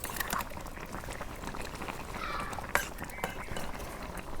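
Lau and taki fish curry bubbling in a pot over a village cooking fire, a steady soft simmer with faint liquid burbles and an occasional clink.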